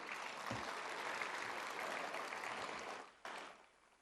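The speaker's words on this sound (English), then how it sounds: "So can we clap once again for all the students here?" A school annual day audience claps steadily for a few seconds for students, the applause thinning out and fading toward the end.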